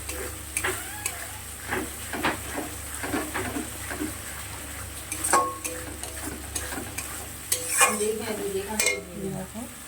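Masala spices sautéed and stirred in a pan while cooking pomfret, a low sizzle with irregular metallic scrapes and clinks of the spoon against the pan, a few louder knocks near the end.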